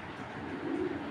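A Belgian racing pigeon, a 2020 male, gives a soft low coo that swells near the end, close by, with no voices.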